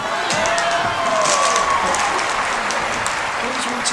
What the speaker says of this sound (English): So let's have another blast of gangster clapping for Mr. Peter Cox.